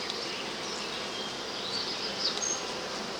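Bees buzz steadily in an open beehive during an inspection, a dense close hum with a faint higher whine drifting over it, no talking.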